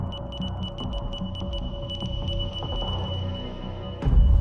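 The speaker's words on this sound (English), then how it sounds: "sending frantic pulses and pauses of Morse code into the unseeing night." Wireless telegraph sending rapid Morse code pulses: a steady train of short, regular beeping tones runs throughout over a dense low rumble, ending with a louder thump near the close.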